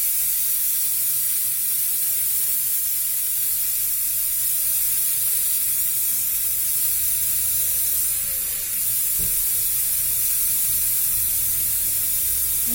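Air hisses continuously out of a punctured tyre after a failed repair-screw attempt, a loud, close, broadband rush that barely changes for the whole stretch, with no voices over it.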